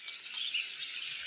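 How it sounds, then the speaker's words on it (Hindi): Birds chirping in the Himachal mountains, a steady high twittering and tweeting that stays fairly faint and continuous throughout, with no clear waterfall rumble beneath it. "ये जो आप बैकग्राउंड में चिड़ियों की और पक्षियों की और झरनों की आवाज़ सुन रहे हैं ना,"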